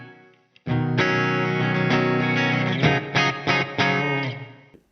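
Electric guitar through a reverb pedal set to a short, sharp room sound, a loud distorted chord held then several choppy stabs, each cut off with a brief tight reverb tail, no voices.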